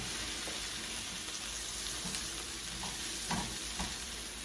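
Beef fajitas sizzle steadily in a pan, a dense even frying hiss running throughout, with a few soft spatula stirs and scrapes rising briefly near the end.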